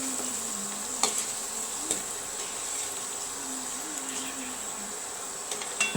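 Dal puri frying in hot oil, a low steady sizzle with a few sharp clicks of a utensil against the pan, quiet and close.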